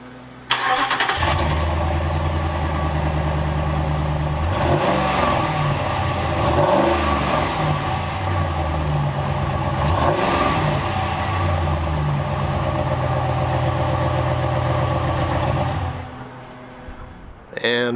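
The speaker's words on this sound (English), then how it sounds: "So here goes a cold start," A 2016 Ram Rebel pickup truck cranks briefly and fires on a cold start, then a loud, steady engine idle with a few revving swells runs for about fifteen seconds before cutting off.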